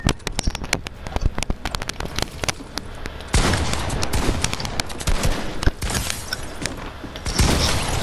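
Dense, rapid gunfire from a shooter video game rattles almost continuously for several seconds, loud and close, with sharp cracks layered in bursts and no talking.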